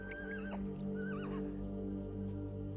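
Horses neigh repeatedly beside a stagecoach, shrill whinnies rising and falling over a steady low rumble with faint hoof clatter, fairly close and loud, with no talking.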